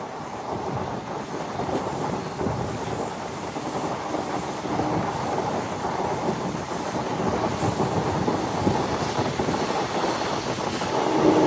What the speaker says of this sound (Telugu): ఏదో ట్రైన్ వస్తుంది అటు సైడ్, మెమో ట్రైన్ అనుకుంటా, లోకల్ ట్రైన్